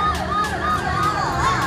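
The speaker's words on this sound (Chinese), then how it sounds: "哦，它会有警车的声音呢。" Electronic police-car siren from a Robocar Poli remote-control toy robot, a rapidly wailing up-and-down tone repeating several times, loud and close, with no talking.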